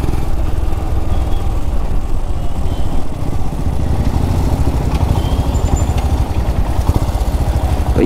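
A motor vehicle engine runs steadily and loudly close by, a continuous low rumbling drone with no pauses, on a road in Tumkur while the rider hunts for a place to park.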